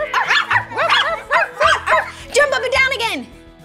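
A voice imitates a dog barking with a quick series of about eight yappy woof sounds, close and lively, over a soft musical backing.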